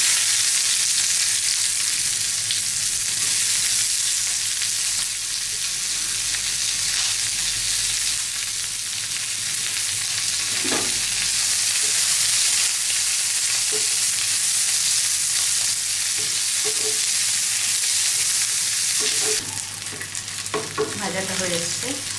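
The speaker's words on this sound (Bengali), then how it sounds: "এবার এর মধ্যে পেঁয়াজটা দিয়ে দেবো।" Onion fries in a pan with garlic for an egg and potato bharta, a loud unbroken sizzle close up, with a few faint utensil taps and stirring scrapes near the end.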